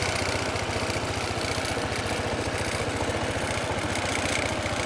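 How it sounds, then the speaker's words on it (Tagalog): A matte black Honda ADV 160 scooter idles right after a cold start, its low engine pulsing in a steady, rapid rhythm close to the microphone, with a rough vibrating throb and no voices. "Yung cold engine start."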